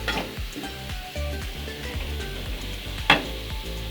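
Chicken yakisoba with cabbage and corn stir-frying in a pan, with a steady sizzle, rhythmic scraping and tossing strokes and one sharp clatter, close and continuous without talking.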